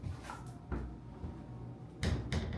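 A door is shut indoors, giving a couple of solid wooden clacks and thuds a little over a second apart against a quiet room background with a heater running.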